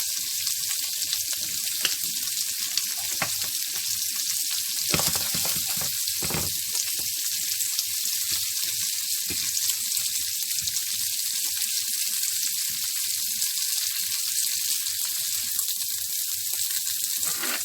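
Golden shrimp sizzle steadily in a hot pan, a dense, even frying hiss that runs throughout with a few soft knocks from the pan or utensil, and no talking.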